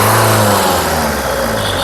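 A 2014 Renault Duster RXZ 4x4 engine revs loudly up close, a continuous roaring whine that fills the short moment without any voices.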